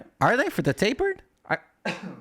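A person coughs sharply a few times during a casual conversation about shoes, with the coughs and talk overlapping.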